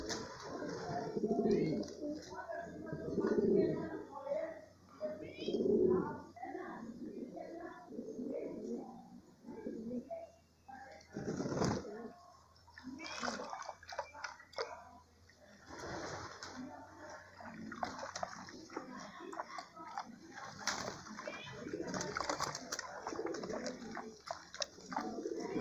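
Racing pigeons bathe in apple-cider-vinegar water while cooing, their repeated coos mixing with splashing and wing flutters, loudest early on and continuing more faintly alongside water sounds.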